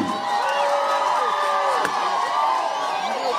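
A large outdoor crowd cheers and whoops for President Ruto as a Victory Farms Limited permit is handed over in Luo Nyanza. The dense, steady roar of many voices lasts throughout, with a single sharp knock partway through.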